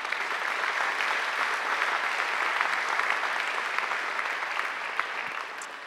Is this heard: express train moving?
no